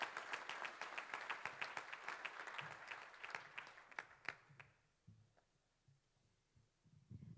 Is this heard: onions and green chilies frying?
no